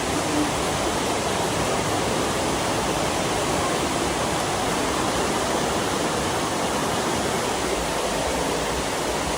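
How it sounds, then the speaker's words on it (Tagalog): Heavy rain pours in a dense, unbroken hiss that stays loud and even from start to finish, with no voices. "Grabe, ulan na pod."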